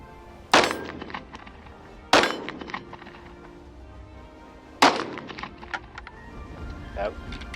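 A Rock Island Armory 1911 handgun chambered in 22 TCM fires three sharp, widely spaced shots outdoors, each a loud crack followed by a ringing tail and fainter clanks, with voices talking softly between them.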